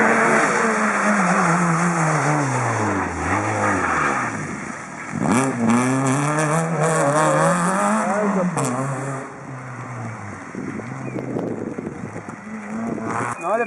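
A rally car at the Rallye Salamandre 2013 roars up fast and close, engine pitch climbing then dropping through several gear changes, loud and continuous, with spectators talking faintly beneath.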